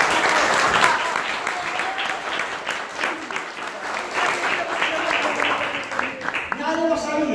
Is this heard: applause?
yes